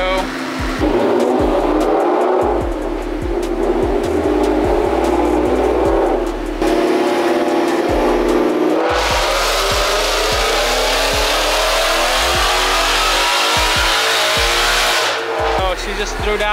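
A supercharged Mustang GT runs hard on a chassis dyno, its engine roaring loud and steady, then climbing in pitch through a long full-throttle pull with a whining edge.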